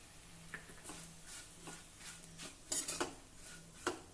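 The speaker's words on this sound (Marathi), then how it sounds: "हे मिक्स करूया." Dry grated coconut, whole roasted sesame seeds and ground roasted peanuts are stirred together in a pan for an ivy gourd dish, giving a few light clinks and scrapes of a spoon against the vessel at an uneven pace.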